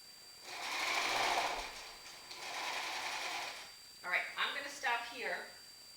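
Quilting machine stitching a seam on a quilting frame: two stretches of steady, fast mechanical whirring stitching, the first louder, then a voice speaks over quiet background.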